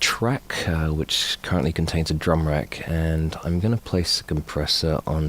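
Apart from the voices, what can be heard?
None of the usual background noises is heard.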